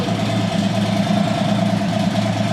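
A 1900cc motorcycle engine idles steadily nearby with a low, even rumble and constant hum, no revving, no voices.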